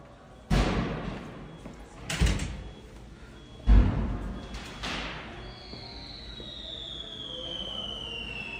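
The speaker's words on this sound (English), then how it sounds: "You hear the fireworks?" Fireworks bursting at New Year, several loud booms spaced a second or two apart with a rumbling tail, followed by a steady hiss and a rising whistle.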